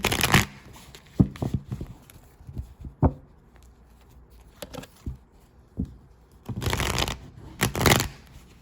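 A Rider-Waite-Smith tarot deck is shuffled in several brisk bursts with short pauses between, close and fairly loud, no talking.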